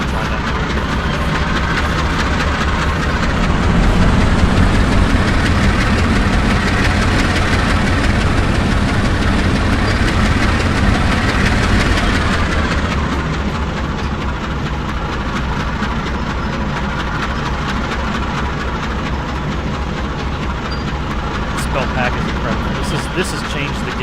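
A diesel locomotive in the train simulator Derail Valley, fitted with an FTL sound mod, rumbles with a loud, continuous low engine drone that swells midway and then settles to an idle, with talk over it.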